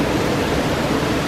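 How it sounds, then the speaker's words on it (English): A waterfall at a resort entrance at Disney World, a loud, steady broadband rush of falling water filling the whole short stretch with no pauses or other sounds. "this beautiful waterfall is greeting you."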